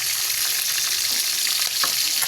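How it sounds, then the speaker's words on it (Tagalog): Galunggong (mackerel scad) fish fry in hot oil, giving a dense, continuous close sizzle with crackling pops throughout and no voices. "magprito tayo ng galunggong"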